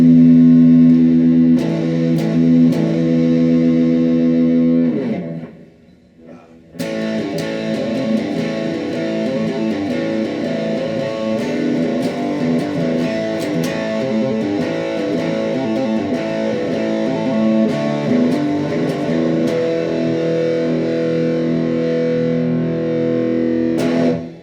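Electric guitar run through a Danelectro D-1 FAB distortion pedal, playing sustained, thick distorted chords and riffs close and loud, with a brief pause near five seconds before the crunchy playing resumes for the rest of the clip.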